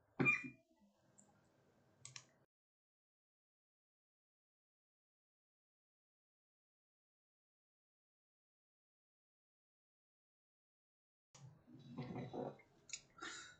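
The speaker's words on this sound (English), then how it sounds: "I'm currently coughing and choking on something." A short burst of harsh coughing and throat sounds, then a long silence, then more rough coughing and choking noises close to the mic.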